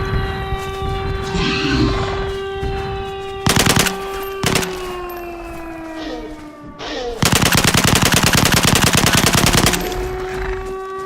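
Machine gun fire in the video game DayZ, set in a WW2-era 1945 island scenario, crackles in two loud sustained bursts plus short shorter volleys over a droning background hum.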